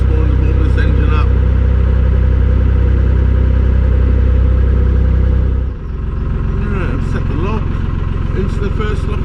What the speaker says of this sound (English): Could take 2 hours this morning to warm this engine up.